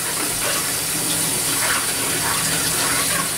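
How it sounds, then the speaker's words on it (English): Zucchini rinsed under a running kitchen tap, a steady, fairly loud hiss and splash of flowing water that stays constant throughout, with no talking. "Then after that, you got the zucchini. We'll rinse that off real nice."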